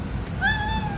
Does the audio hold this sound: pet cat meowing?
yes